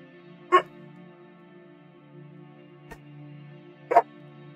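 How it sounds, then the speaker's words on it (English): A dog gives two short, close barks a few seconds apart, with a faint tick between them and a quiet hum underneath. "Okay, you've been barking at me"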